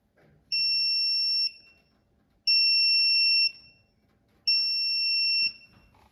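An AtemPower 12V 100Ah hub with a 40A DC-DC charger sounds a loud, steady, high-pitched electronic alarm tone in three evenly spaced one-second bursts, each followed by a quiet pause.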